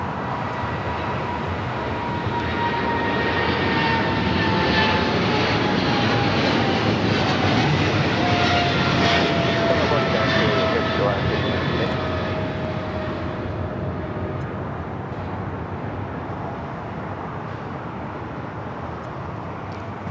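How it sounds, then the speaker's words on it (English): A China Airlines cargo Boeing 777 freighter takes off from a runway at LAX, a loud sustained engine roar with a faintly falling whine that swells and then gradually recedes, no voices over it. "we do have China Airlines cargo 777 freighter now taking off 25 left"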